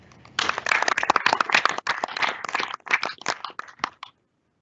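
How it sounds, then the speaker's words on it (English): An audience claps for student government executive ticket debate candidates, a dense burst of applause that holds steady for about four seconds and then stops abruptly. "can we get a round of applause for our candidates here real quick?"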